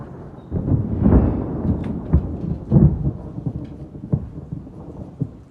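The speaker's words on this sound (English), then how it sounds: "This is the first thunderstorm we've had in probably like 3 or 4 years." Thunderstorm with repeated rolling rumbles of thunder over steady rain, loud and close, the booms swelling and fading without a break.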